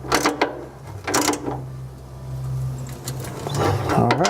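A ratchet wrench tightening 14mm nuts back onto a vehicle part, delivering a few close clicking bursts separated by low background hum.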